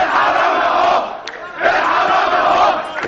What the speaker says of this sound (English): thousands chanted for President Hosni Mubarak